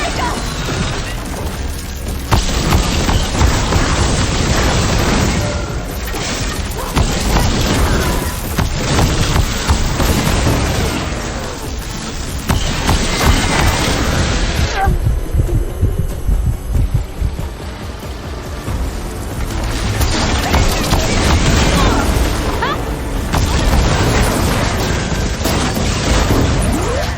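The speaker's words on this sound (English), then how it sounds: "big explosion!" Explosions in the video game Horizon Forbidden West, loud booming blasts and crashing impacts over a dense, rumbling battle soundscape, with brief quieter lulls between heavy bursts across nearly half a minute.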